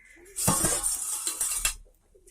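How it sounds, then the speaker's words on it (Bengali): A metal lid comes off a cooking pot holding soyabean curry, a short burst of clinks and scraping metal lasting about a second and a half, close and fairly loud, with no talking. "ঢাকনাটা আমি খুললাম"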